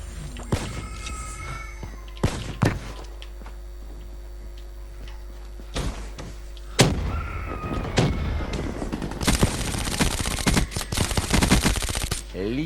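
Gunfire from a weapon in Call of Duty Black Ops 2 Zombies, heard as scattered single shots followed by a sustained burst of automatic fire near the end, loud and close with no voices.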